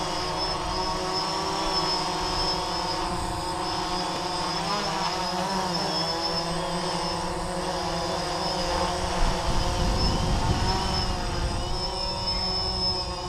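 A remote-controlled helicopter hovering nearby makes a loud, steady, whining rotor and motor drone that holds without a break, with a slight swell in intensity partway through.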